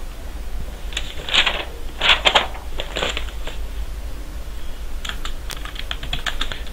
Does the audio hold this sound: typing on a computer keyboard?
yes